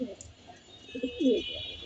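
A male racing pigeon coos in a few soft, low, close calls, with faint background noise around it.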